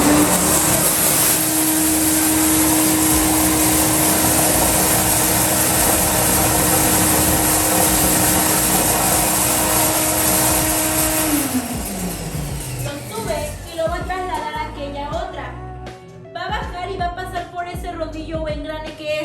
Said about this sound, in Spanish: se aplica dentro de esta tolva y a través de succión, ¿sí? Podemos ver acá cómo lo va a aspirar.